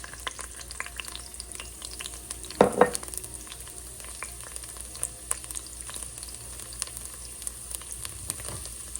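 Garlic frying in a pan with a faint continuous sizzle and scattered crackles, plus a short louder burst of stirring or scraping partway through, close by and with no voices.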